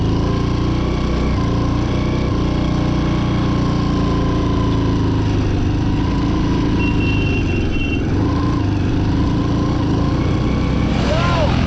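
A Royal Enfield Himalayan motorcycle engine labours loudly and steadily climbing toward Umling La pass, a continuous low drone under rushing wind noise.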